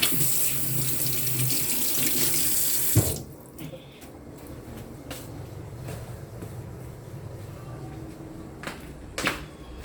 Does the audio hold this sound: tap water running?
yes